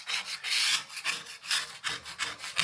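A scraper rasping loose wallpaper off an interior wall in rhythmic back-and-forth strokes, close and fairly loud, with no talking.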